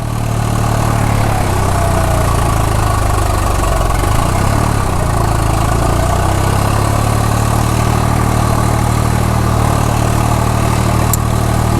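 A farm tractor engine runs steadily at a constant low, heavy drone, loud and close throughout with no talk.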